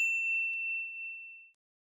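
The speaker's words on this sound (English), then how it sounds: "ring the bell to be notified about our latest videos" A single bright notification bell ding, clean and high-pitched, ringing out alone and fading over about a second and a half, with a faint second tap partway through.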